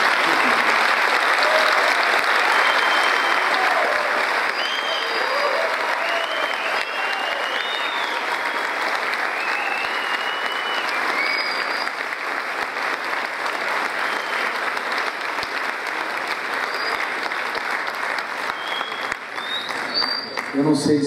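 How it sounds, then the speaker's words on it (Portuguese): An audience at a 2014 congress opening session gives a standing ovation: dense, steady applause sustained throughout, loud and close, with scattered whoops and voices in the crowd. "Eu gostaria que todos vocês se levantassem e aplaudissem de pé o Paulo Martelli"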